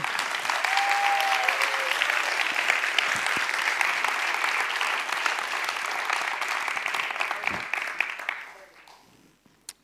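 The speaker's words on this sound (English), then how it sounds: "round of applause for John!" An audience at a TEDx event at Wageningen University applauds loudly and steadily for about eight seconds before the clapping thins out and fades away.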